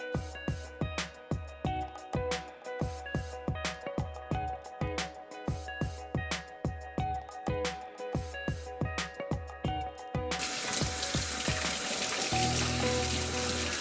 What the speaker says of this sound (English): so now you can run the water between 80 and 100